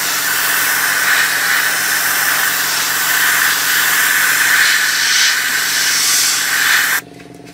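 An airbrush sprays camouflage paint onto a 1/35 scale Takom Chieftain Mk 10 tank model, a steady close, loud airy hiss that runs unbroken for about seven seconds and then cuts off abruptly.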